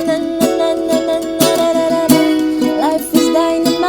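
Ukulele strummed in a rhythmic pattern for the post-chorus of a song, with bright, repeated chord strokes and crisp accents, close and alone without any voice.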